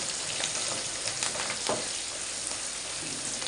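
Green chillies and turmeric fry in hot oil with a steady, even sizzle and faint crackles, close up, with no voices.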